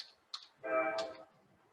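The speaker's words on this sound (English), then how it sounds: "I click on that, and I type in media" A few keys tapped on a computer keyboard, quiet and close, with a brief tonal hum between the clicks.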